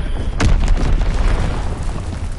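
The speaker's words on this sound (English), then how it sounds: "Enemy mortar fire incoming." Mortar explosion in a Call of Duty World War game, a loud close boom with a deep rumbling tail that fills the short clip.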